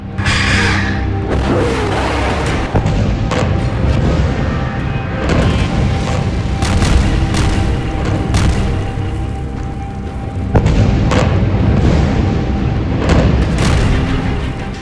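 Aerial bombing in Gaza sets off heavy, booming explosions that roll and rumble loud and continuous, with sharper crashing surges rising above a dense low roar.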